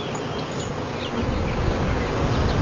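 Dense, close buzzing of many honeybees around blueberry crops, a steady droning swarm that grows slightly louder.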